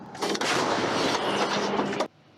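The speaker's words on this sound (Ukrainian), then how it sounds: "Гармата!" A single loud artillery cannon blast in wartime combat, with a sustained roaring rumble lasting about two seconds before cutting off, close and powerful.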